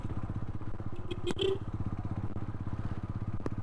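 A motorcycle is ridden at a moderate, steady speed on a rural road. Its engine gives an even, rhythmic putter that is fairly loud and near, broken by a few brief clatters.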